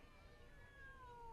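A cat meowing faintly in a quiet room, one drawn-out descending meow, distant and soft.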